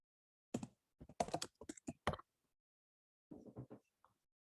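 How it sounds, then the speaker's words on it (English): Bursts of typing on a computer keyboard, close and crisp, in two separate flurries of keystrokes with a short pause between them. "If I type this in here."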